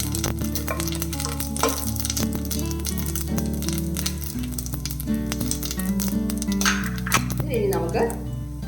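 Black pepper, chili and cumin heating in a pan give off a steady, soft sizzle that runs throughout, mixed with background music and a few light clinks.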